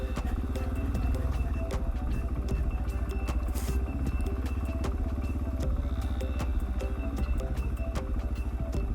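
A motorcycle rides along a rutted green lane, its engine buzzing loud and close without a break, with clattering and rattling from the rough ground mixed in.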